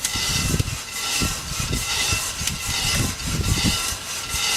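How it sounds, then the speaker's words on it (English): A fan blows steadily over freshly roasted coffee beans to cool them after a home roast, giving a constant close broadband whoosh with low rumbling pulses and no talk. "So I'm going to put them in front of this fan, and in about 4 minutes they'll be to room temperature."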